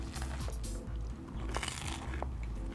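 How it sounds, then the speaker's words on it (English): Crunchy bread topped with melted cheese being bitten and chewed, giving a few close, crisp crunches spread across a short moment with faint room murmur behind. "the cheese with the crunchy bread."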